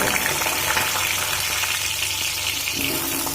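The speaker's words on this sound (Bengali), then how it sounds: "লো ফ্লেম করে করে চাপা দিয়ে পটলগুলো ভেজে নেব" Pointed gourd fries in hot oil in a covered pan over low flame, giving a loud, steady, dense sizzle throughout.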